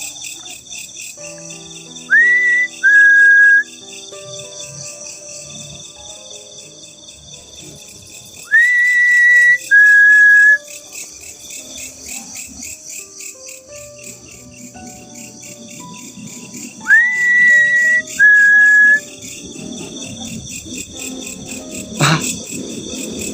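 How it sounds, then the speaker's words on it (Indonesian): A person whistling a short two-note phrase three times at regular intervals, clear and near, over constant night insects chirping. "Oke, gua siul coba ya."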